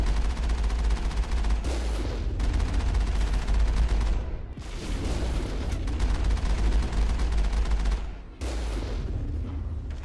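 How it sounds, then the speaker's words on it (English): Video-game gunfire in Mass Effect, with sustained, heavy automatic bursts and loud booming shots over a deep rumble. The firing breaks off briefly a few times. "it's easier to just stand here and wait for him to shoot, and then shoot him back"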